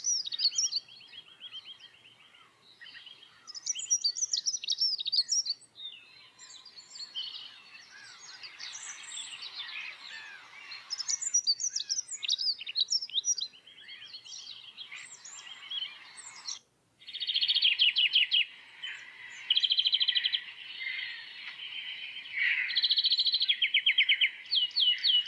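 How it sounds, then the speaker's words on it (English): A dunnock and a greenfinch sing one after another, bright warbling phrases and rapid chirps, with a brief pause near the middle and no talking. "I will play both of these bird sounds back to back for you"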